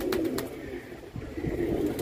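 Pigeons coo softly on top of a rooftop cage, several low, rolling calls overlapping in a steady murmur, with a few brief sharper bird sounds and no talk.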